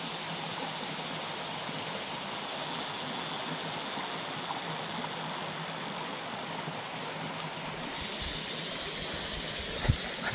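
Strong wind blows beside a river, a broad, constant rushing roar without pause, with one brief thump near the end and no voices.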